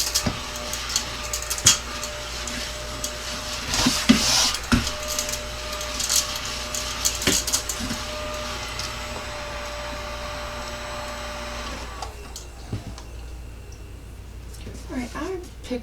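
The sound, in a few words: small ladybug vacuum cleaning up paper scraps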